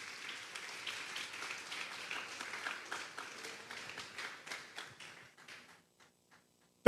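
A church congregation at a Sunday service claps together, a soft, fairly distant patter of applause that tapers off and fades out, ending with a sharp knock right at the close.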